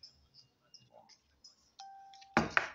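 A short bell-like notification chime rings once, preceded by faint scattered clicks and followed by a brief clattering burst.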